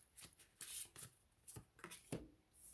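Tarot cards shuffled by hand in a quick irregular run of crisp riffling bursts and soft slaps, close and fairly quiet, with no talking.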